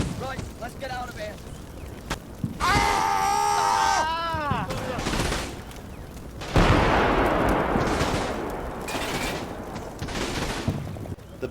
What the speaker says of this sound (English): The battle rages, with the British tanks firing on the church to destroy my machine guns